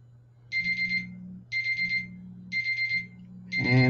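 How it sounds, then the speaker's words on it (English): Electronic alarm going off: four bursts of rapid high beeps, each about half a second long and spaced roughly a second apart, fairly loud and clear over a low steady hum, with a louder jangling sound starting at the end. "And there's my alarm telling me I got 15 minutes."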